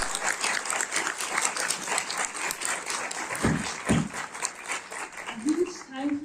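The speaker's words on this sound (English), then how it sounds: "Can we have a huge round of applause?" Audience clapping for panelists at the close of a legal career session, moderately loud and continuous, with a voice speaking over it and brief murmurs near the end.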